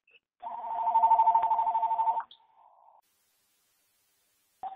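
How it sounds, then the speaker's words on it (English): A phone rings during an online meeting with a single electronic ringtone burst lasting about two seconds, then a short softer tone and a brief chirp near the end, with no talk over it. "Somebody has a phone ringing."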